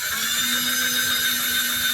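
A drill with a 1/8 inch bit boring into a thin plastic RT-TCZ mud guard on a 2023 Jeep Gladiator, a steady high-pitched whine held evenly for about two seconds.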